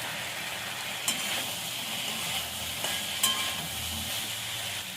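Vegetables fry steadily in a pan with a spice paste of ginger, cumin, coriander, turmeric and chilli, giving a continuous moderate sizzle with a couple of sharp stirring clinks.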